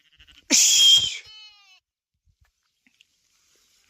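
A sheep on a hot, sunny sheep farm lets out a single loud, close bleat lasting under a second with a short trailing tail, then near silence with only a few faint small clicks.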